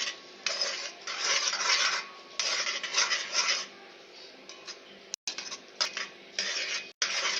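A spoon scrapes and clanks around a pan while cheese is stirred into a thickening dish, with repeated close metallic rubbing strokes in uneven bursts and short pauses.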